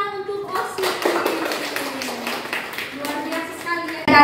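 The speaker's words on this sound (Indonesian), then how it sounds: "kita beri tepuk tangan untuk OSIS" A room of school students at a microteaching session claps for the student council, a steady patter of hand claps running under the teacher's voice for several seconds.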